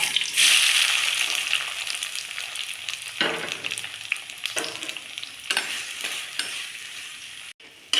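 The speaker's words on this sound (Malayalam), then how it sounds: "വെളിച്ചെണ്ണ ചൂടായിട്ടുണ്ട് അതിലേക്ക് അരിഞ്ഞു വെച്ച സവോളയും പച്ചമുളകും വെള്ളുള്ളിയും ഇടുക" Chopped onion, green chilli and garlic tossed into hot coconut oil, a loud burst of sizzling that settles into steady frying, with repeated scrapes of stirring close by.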